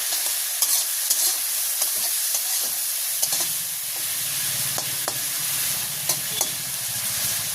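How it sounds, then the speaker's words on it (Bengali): Potatoes frying in oil with salt and turmeric in a village kitchen, a loud steady sizzle with repeated scraping stirs of a spatula close up, no talk. "তো আলুটা সুন্দর করে ভেজে নিছি"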